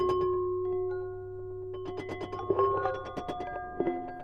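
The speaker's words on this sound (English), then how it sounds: "You can hear a distinct percussion sound when lifting from the keys." Roli Seaboard Rival keyboard synth playing a sustained tone with a preset that adds a percussive click on key release; soft held notes followed by a flurry of short clicky percussive hits, quiet and close, no voices.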